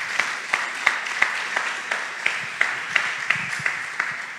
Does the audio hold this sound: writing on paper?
no